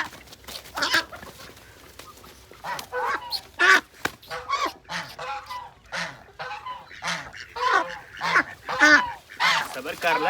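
Several ducks quack and honk in loud, irregular bursts close by around their new nest, mixed with chicken-like clucks, while a person talks over them in between the calls.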